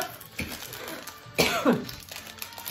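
A person coughs and clears their throat a few times in short, rough bursts, close by and fairly quiet, with faint background noise between.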